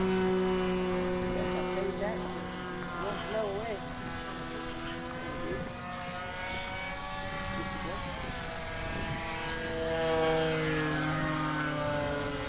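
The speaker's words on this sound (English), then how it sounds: "Taxiing out." A small radio-controlled float plane taxis out across the water at a club fly-in, its buzzing engine droning steadily and shifting in pitch as it moves, while people talk nearby.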